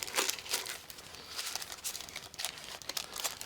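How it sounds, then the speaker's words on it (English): A plastic Ziploc bag crinkles and rustles up close as engraving templates are slipped inside, several quick crackling bursts over about three seconds. "So I'm going to put these back in this little Ziploc bag right here."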